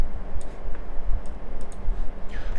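Computer mouse clicking, a few faint, sharp taps scattered over a low steady background hum, with no voices.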